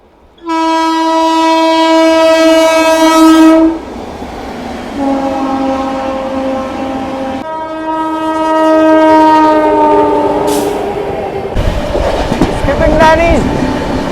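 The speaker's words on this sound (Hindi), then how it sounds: "Tejas Rajdhani express overtaking" The Tejas Rajdhani Express overtakes another train in thick fog, sounding long, loud, close horn blasts in several pulses over rolling wheel clatter, with a voice briefly heard.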